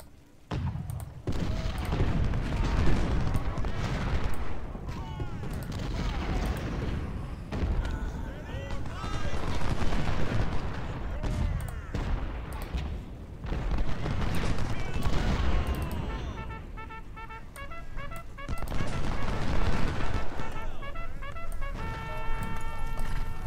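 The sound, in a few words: artillery and gunfire in video game Ultimate General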